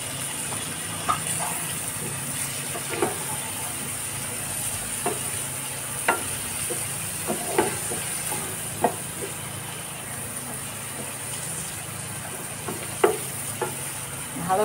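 Egg curry with potato, spices and tomato being stirred in a pan, a steady close sizzle with a spoon or spatula scraping and knocking against the pan at irregular intervals.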